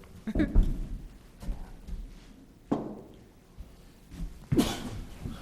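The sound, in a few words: sneeze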